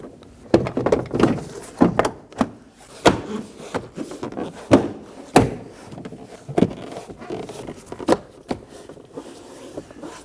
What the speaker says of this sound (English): We are going to line up all of our door panel clips and push them in.